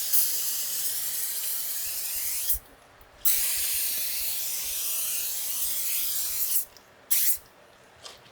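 Meguiar's product sprayed onto car wheels after a brake job, three long close hissing spray bursts separated by short pauses, alone without talk.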